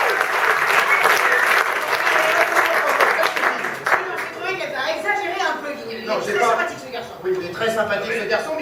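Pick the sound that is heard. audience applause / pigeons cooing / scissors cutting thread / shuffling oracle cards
audience applause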